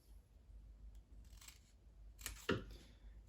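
A single crisp scissors-like snip while cutting paper for a scrapbook baby nightlight, close and fairly quiet, with faint handling rustles before it and no talk.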